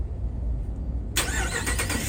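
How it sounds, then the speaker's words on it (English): A 2024 Ram 1500 pickup's engine starts by remote start, firing abruptly after a quiet stretch and settling straight into a loud, steady idle nearby. "and that will start the truck."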